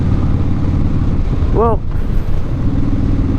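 A cruiser motorcycle engine drones steadily while riding, loud and close, with wind buffeting the microphone and a brief spoken word partway through.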